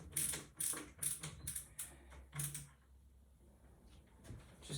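A screw is driven into a furniture corner bracket while the piece is clamped for repair, producing a close series of ratcheting clicks and creaks at a quick uneven rhythm, then a quieter pause.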